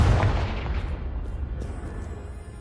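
A Confringo explosion spell in Hogwarts Legacy bursts with a loud, close boom, then fades into a rumbling decay.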